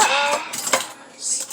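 A clean metal spoon picked up from a kitchen silverware drawer, a couple of short clinking rattles of cutlery, close and fairly loud, followed by a brief high metallic ring.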